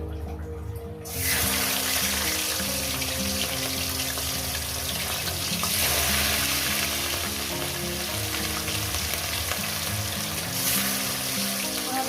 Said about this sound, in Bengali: এবার মাছগুলো এক এক করে ছেড়ে দেবো মাছগুলো আমি ভেজে নেব